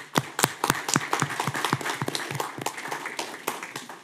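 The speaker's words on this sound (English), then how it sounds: "give a round of applause for always doing community" Sparse applause from a small group at a city commission meeting, with distinct individual claps ringing out close by for a few seconds.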